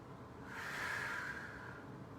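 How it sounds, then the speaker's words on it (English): A single sharp breath drawn in through the nose during a core-to-yin yoga session, a breathy hiss that swells and fades over about a second, close and fairly quiet with no talking. "Sniff."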